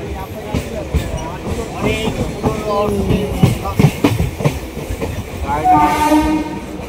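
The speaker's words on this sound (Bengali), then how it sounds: "ওটা এক্সপ্রেস ট্রেন, কাঞ্চনজঙ্ঘা এক্সপ্রেস, পুরোটা এসি" The all-AC Kanchenjunga Express runs loudly on the rails nearby with a steady rumble and rhythmic clacking, a horn sounding near the end, and people talking over it.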